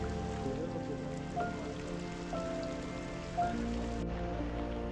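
Steady rain patters on a surface in the Valparai hill villages, a continuous dense hiss with a low hum and faint tonal sounds beneath.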